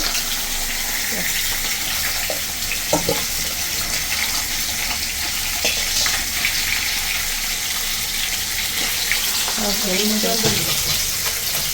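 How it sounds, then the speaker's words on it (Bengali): Fish fries in a pan in a home kitchen, a continuous sizzling hiss running throughout at moderate loudness, with brief voices and household clatter mixed in. "এখানে মাছ ভাজা হচ্ছে ভাত হচ্ছে"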